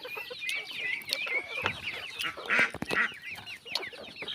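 Chickens clucking and squawking inside a small native chicken coop on a rural farm, a busy overlapping chorus of close calls with occasional sharper cries.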